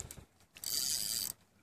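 A fishing reel's drag on the Sacramento River lets out a loud, fast ratcheting whir as a salmon is hooked and runs. A few soft clicks come first, then a sustained buzz of drag lasting under a second before it stops.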